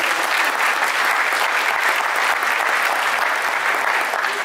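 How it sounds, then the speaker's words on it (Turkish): A crowd at an event claps loudly and continuously as a guest is invited on stage, a sustained even wash of applause throughout. "alkışla reaksiyon gösterebilirsiniz"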